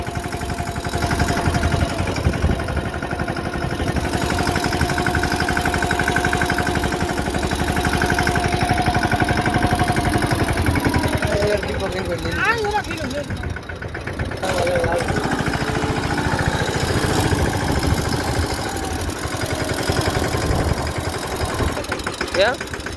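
A Mahindra Yuvraj 215 tractor, started after many days idle, runs with a steady close engine chug and vibration throughout, while people talk over it.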